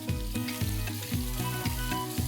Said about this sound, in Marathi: तेल तापलं की त्यात घालणार आहे मी कांदा.